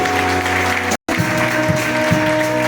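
A church congregation applauds during a Sunday service, a dense, steady wash of clapping filling the space, broken by a brief dropout near one second before resuming with scattered louder claps.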